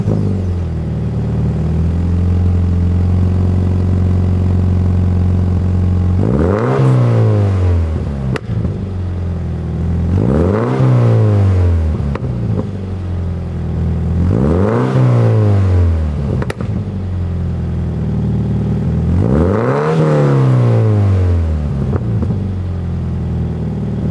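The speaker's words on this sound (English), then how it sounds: "I know you guys want to hear how the Tomei sounds, so let's start it up, give it some revs, give it some juice." A Subaru BRZ with a Tomei exhaust idles close and loud, then is revved four times in evenly spaced sharp blips that fall back to a rumbling idle, with no talking.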